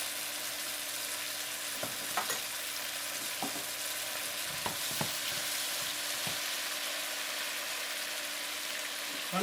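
Beef and tofu sizzle steadily while stir frying in a pan, a constant crackling hiss broken by occasional soft clicks of stirring.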